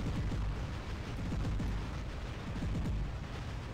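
Robots trading fire in the War Robots game: a dense, continuous barrage of booming weapon blasts and bursts layered over a heavy low rumble, loud and steady throughout, with no talk.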